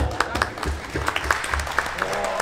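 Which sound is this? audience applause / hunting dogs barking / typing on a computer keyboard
audience applause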